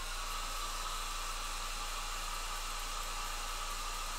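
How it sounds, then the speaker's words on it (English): A hairdryer blows a steady, loud, unbroken whoosh of air close by while drying paint on a miniature figure, with no talking. "I'm going to take my hairdryer and speed this dry process up"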